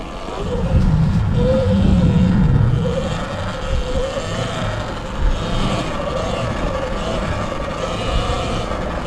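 Motocross dirt bike on Dunlop MX53 tires riding a track in Japan, a continuous engine drone that swells early and then holds a steady rumble, close and fairly loud with wind buffeting.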